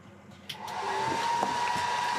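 Diode laser engraver switching on, a click followed by a steady whirring hum with a fan-like hiss that rises and holds for about two seconds, close by with no talk.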